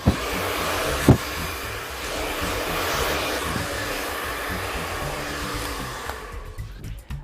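A hair dryer running during a volume blow-dry, a steady close whooshing roar with a couple of brief knocks early on, cutting off just before the end.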